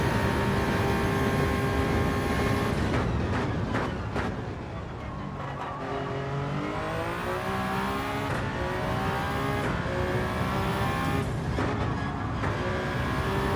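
Race car engine in Gran Turismo 7 drones loud and continuous, with revs climbing and falling through gear changes and corners, and brief dips where the throttle lifts.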